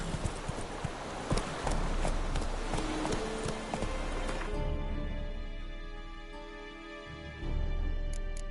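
Horse hooves galloping in The Witcher 3, a steady rapid clip-clop rhythm near and fairly loud, continuing throughout with little else over it.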